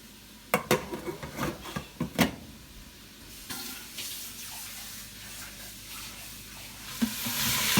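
Onion and red pepper sauté in a pan for chili, starting with several sharp clanks and scrapes of a utensil against the pan, then settling into a soft, steady sizzle that grows louder near the end.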